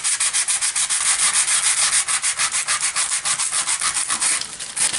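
Rapid back-and-forth rubbing across thin junk-mail paper to erase printed words, a steady close scratchy rhythm of quick strokes repeating for several seconds with no talking.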